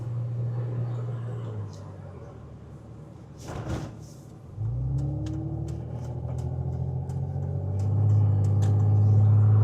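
Car on a test drive after repair, heard from inside as a low engine and road rumble that drops away briefly around a soft thump, then returns and swells steadily louder.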